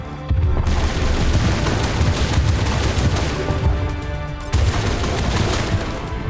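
Sustained heavy gunfire raking rocks in the video game Mass Effect, a loud continuous barrage of shots that breaks off briefly near the end and then resumes.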